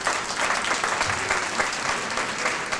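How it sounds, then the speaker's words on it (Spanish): An audience at a Spanish-English training session claps steadily for about three seconds, a dense, even wash of applause with no voices rising above it. "vamos a darle un fuerte aplauso a todos,"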